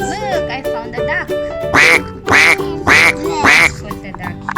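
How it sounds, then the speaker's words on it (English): A toy duck gives four loud, evenly spaced quacks in the second half, following a stretch of voice-like toy or cartoon sounds at the start. "Look, I found a duck."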